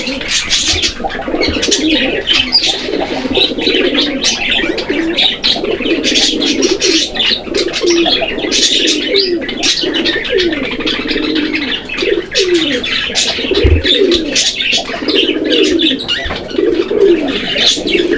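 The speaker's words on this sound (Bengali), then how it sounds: "এটারও ডাক কিন্তু মাশাআল্লাহ দেখার মতো।" Several pigeons from a pair on sale in Bangladesh coo steadily and loudly at close range, overlapping with chirps from other birds and an occasional wing flutter, with no pause over the whole stretch.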